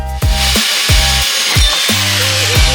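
Steel steering column pipe being cut for a turbo rotary drift car build, a loud close-up power tool biting through metal in repeated short strokes, each cut rising and dropping off with brief gaps between, no talk.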